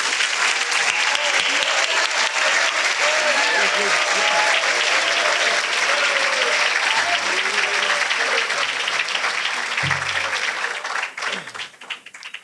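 A crowd at a school graduation day gives the graduates a long, dense round of applause, loud and sustained for most of its length before thinning out near the end.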